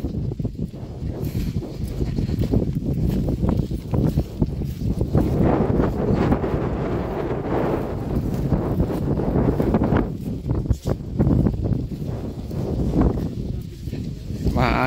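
Steady wind gusting across an open farm lot in Talugtog, Nueva Ecija, a continuous broadband rush buffeting the microphone throughout, with a few louder swells.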